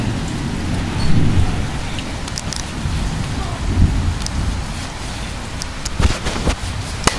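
Heavy rain pours steadily during a massive supercell thunderstorm with large hail on 4/28/12, a loud, dense wash close by with occasional rumbling swells and sharp drop impacts throughout.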